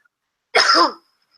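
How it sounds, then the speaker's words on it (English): A single short cough burst, close and fairly loud, lasting under half a second in otherwise quiet surroundings. "Oh, I can't stop coughing. It's annoying."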